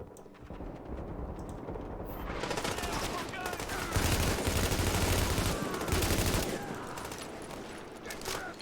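Sustained gunfire in The Division video game, a dense, loud fusillade of rapid shots that builds after a quieter start and rattles on continuously for several seconds.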